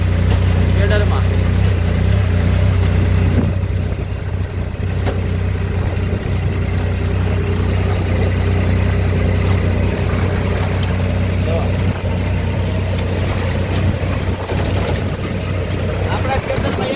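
Two tractors, one a Holland 3600, run together on a farm with a 5510 shredder machine, giving a loud, continuous low engine drone close by while people talk over it.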